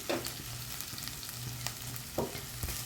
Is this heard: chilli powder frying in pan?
yes